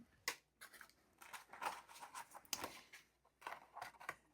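Scissors snip through a small piece of plain white paper in a quick series of close, crisp cuts with brief pauses between them.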